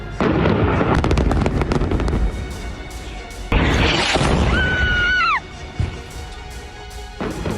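Repeated explosions from Israeli bombing in southern Lebanon: loud booming blasts and sharp cracks in close succession, plus a brief rising whine in the middle.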